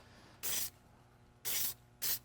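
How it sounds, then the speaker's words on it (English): Three short, close hissing bursts of silicone aerosol spray, the first two spaced apart and the last following quickly, with quiet between. "Again, more silicone spray."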